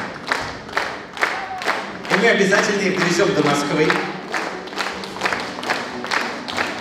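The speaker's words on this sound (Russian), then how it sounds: "Спасибо вам большое за эти аплодисменты" Audience applause at an accordion festival breaks out mid-clip as a dense burst of clapping, swelling and fading under a voice addressing the crowd through a microphone.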